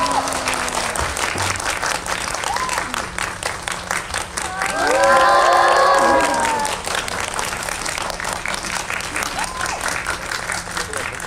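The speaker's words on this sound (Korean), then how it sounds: "큰 박수로 맞이하겠습니다" A cinema audience claps steadily throughout to welcome guests at a film screening event, a dense patter of many hands, with a brief swell of music or cheering in the middle.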